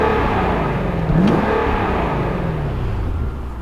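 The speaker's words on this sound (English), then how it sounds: "I'll rev the engine a little bit." A 5.0-liter V8 in an Infiniti FX50 is revved while parked, a smooth deep idle that swells into one quick blip, sweeps up and falls back, heard close and fairly loud.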